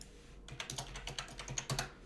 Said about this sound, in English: I might have to type it in here.